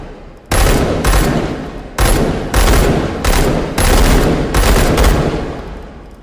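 Bursts of automatic gunfire from a weapon fired left-handed in a video game, about eight loud, close sustained volleys separated by brief pauses.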